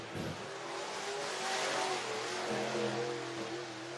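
Race cars run a lap at Cherokee Speedway in Gaffney, South Carolina, with a loud, sustained broadband engine roar that swells and holds as the pack passes.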